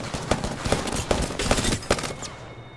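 Gunfire from Apex Legends, a burst of repeated shots in an uneven rapid rhythm with sharp loud cracks, close and dominant over game background noise.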